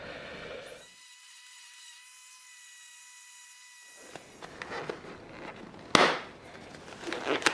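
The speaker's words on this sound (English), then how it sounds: "let's hit this with another sand" Power sander worked over a wooden frame, starting with a brief burst, then a steady high whine with a hard cutoff, followed by scraping, rubbing strokes and a sharp knock near the end, close and fairly loud.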